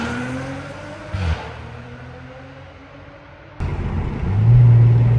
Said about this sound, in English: I'll show you guys exactly what I mean by how loud this car is.